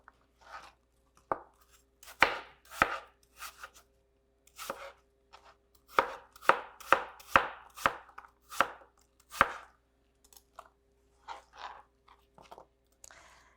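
Knife chopping an apple into small, equal bite-sized cubes on a board, a steady run of crisp, close thuds with brief pauses between bursts, no talking.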